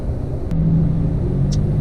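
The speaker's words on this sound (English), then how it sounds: "I just accelerated normally on up to speed, and that's what it sounds like." A Toyota Tacoma pickup fitted with an MBRP exhaust accelerates gently, its low exhaust rumble steady and moderately close, with a slight rise in tone partway through and no talking.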